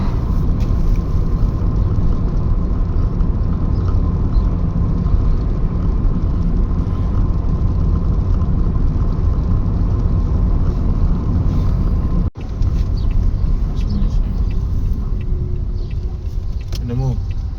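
A car drives steadily along a neighbourhood road during a driving lesson, its engine and road rumble loud and constant from inside the cabin, with a brief drop near the end and people talking over it.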